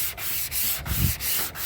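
Hand sanding of painted hood panel on a 1978 Chevy C10 pickup, steady rhythmic rubbing strokes repeating close up, about five back-and-forth passes with no talking.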